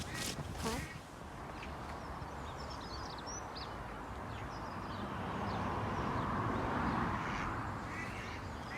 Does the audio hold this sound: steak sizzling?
no